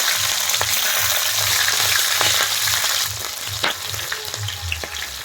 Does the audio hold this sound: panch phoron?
yes